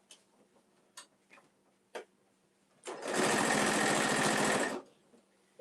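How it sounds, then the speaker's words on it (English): A sewing machine runs steadily for about two seconds, stitching through the layers of a full-size top-handle tote bag, loud and close, with faint ticks and handling before and after. "at this point, I'm just sewing my sandwich together."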